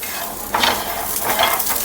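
Peeled garlic cloves being heated and flipped in a pan give a steady sizzle with two soft stirring scrapes, close and alone.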